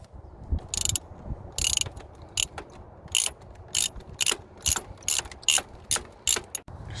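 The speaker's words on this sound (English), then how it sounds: "you will need a 8mm socket and ratchet to remove the negative terminal" A socket and ratchet loosen the negative battery terminal on a 2005 Chevy Malibu 2.2 Ecotec, giving a steady series of crisp, close ratchet clicks in short bursts with brief pauses between strokes.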